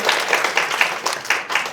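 Thin, loose applause from a lecture audience at a youth startup mentoring talk: scattered hand claps in a brief, uneven patter with no voices.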